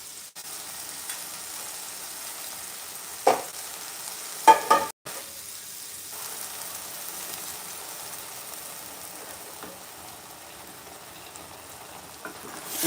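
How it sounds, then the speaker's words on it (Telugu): Chicken pieces frying on a high flame for curry give a soft, steady sizzle, broken midway by a few sharp clatters of stirring against the pan, with no talking. "నేను ఇలా హై ఫ్లేమ్లో ఒక 4-5 మినిట్స్ ఫ్రై చేసుకోవాలి చికెన్ని"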